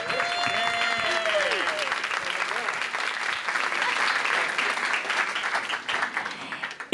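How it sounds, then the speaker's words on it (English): Steady, dense applause from a large live audience at a talk event, loud and sustained throughout, with some voices and a brief tonal sound near the start under the clapping. "Applause."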